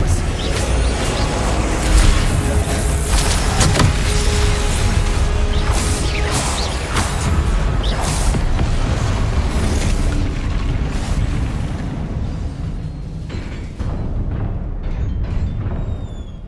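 Spell-casting effects from the Hogwarts Legacy game, with dense, continuous booming blasts and crashing magical impacts layered over a busy mechanical rumble, loud and sustained throughout before easing slightly near the end.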